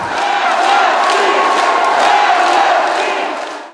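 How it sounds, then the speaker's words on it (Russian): A basketball crowd at a game in Yakutia roars and cheers wildly, a dense, loud and sustained wall of voices with no break for nearly four seconds. "Толпа просто неистовствовала, все слилось в едином порыве за Якутию."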